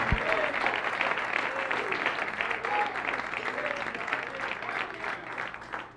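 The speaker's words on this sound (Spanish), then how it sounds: "aplauso al Señor" A church congregation at a Sunday morning service claps together, a dense, even rush of applause with a faint voice or tone threading briefly over it.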